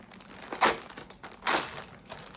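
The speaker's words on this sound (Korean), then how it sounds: "잠시 와서 한번 뜯어볼게요." A plastic package is ripped open by hand in two loud, crinkly bursts of tearing and crumpling, close by, with quieter rustling in between.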